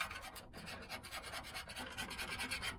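A scraper rasping old blistered paint off a mower deck in quick repeated strokes, close and fairly quiet, with no talking.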